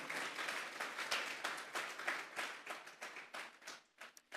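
A church congregation claps hands together as an offering to God, a steady stream of dense, rhythmic applause in a sustained burst that comes across faint and distant, with no talking.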